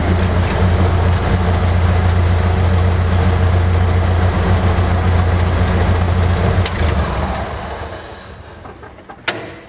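An engine idles steadily with a deep, loud drone and a strong low throb, holding even for most of the stretch before settling and quieting toward a brief click near the end; no voices.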